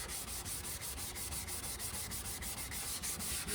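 Wet dry sandpaper rubbing across a car headlight during wet sanding, a quick steady back-and-forth scrubbing rhythm at close range with no voices.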